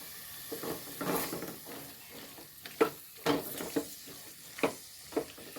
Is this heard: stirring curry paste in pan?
yes